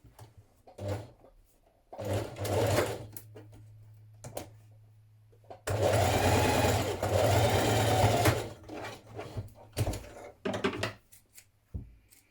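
A sewing machine stitches the seam of a New Look 6483 blouse, whirring in a steady run of about three seconds, with shorter starts and stops and light handling noises around it.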